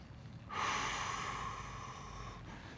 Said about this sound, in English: here we go, breathing deeply.